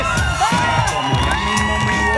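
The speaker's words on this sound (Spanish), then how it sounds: "¡Fuerte el aplauso para el equipo de Grisel, Caterine, Alan y Alexandra!" A studio audience at a Bolivian game show, 100 Bolivianos Dicen, cheers and whoops for a celebrity team, a loud steady crowd roar with music-like tones running under it.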